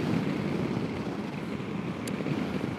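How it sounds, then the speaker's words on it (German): Strong wind roars steadily under a motorcycle helmet at speed, a dense, continuous rumble with no pauses from start to finish. "dass es nicht nur sehr windig ist hier heute, meine Güte, ey, ist das ein Lärm hier unterm Helm"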